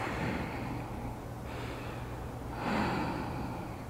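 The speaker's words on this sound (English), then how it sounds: "Couple breaths." Steady audible breathing held in a yoga triangle pose, two slow breaths swelling and fading over a low room hum, close and without talk.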